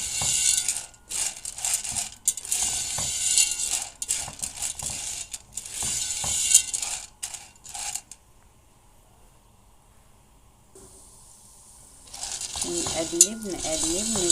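Caramel popcorn stirred continuously in a pot, a busy scraping and rattling of kernels with sizzling, broken by a near-silent pause before the stirring resumes.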